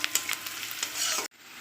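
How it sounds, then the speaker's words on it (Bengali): Chopped onion frying in a pan with salt while being stirred: a steady close sizzle with scraping stir strokes over about a second, then cutting off abruptly near the end. "তাহলে পেঁয়াজটা ভালো ভাজা হয়ে যাবে,"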